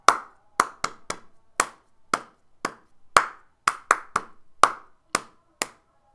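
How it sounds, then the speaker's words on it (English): Hands clap a repeated ostinato rhythm alone, close and crisp: about a dozen sharp claps in an uneven but recurring pattern, played as the bottom line of a prepared music performance. "So the bottom line is just going to be clapping. And it's a completely the same thing every single measure."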